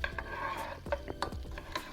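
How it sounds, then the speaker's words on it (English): Kraft Dinner cheddar powder being stirred into a jalapeno cheddar sauce, a close, thick wet swishing with repeated light scrapes of a utensil against the pot in an uneven rhythm. "I'm just like stirring it in there, making sure it's nice and mixed in."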